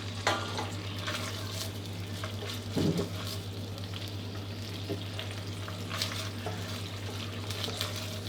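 Basil pesto sauce stir-fries in a pan, a steady close sizzle with scraping stirs and a brief louder clatter of utensil against pan partway through, heard alone without talk.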